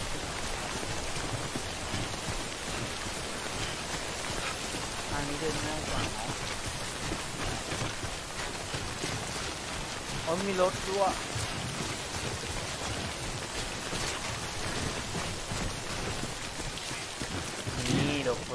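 In-game rain from the horror video game Dead by Daylight makes a steady, even hiss throughout, with occasional louder patter, while people talk over it.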